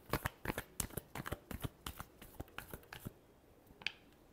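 Tarot cards are shuffled up close in a quick run of crisp riffling snaps and flicks, then a pause and a single final tap, quiet overall.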